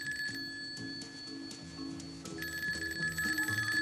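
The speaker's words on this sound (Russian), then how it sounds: "Телефон звонит и звонит в кабинете у нее под носом." A telephone rings in an office, its bell sounding repeatedly with a steady metallic tone over a low, murmuring background.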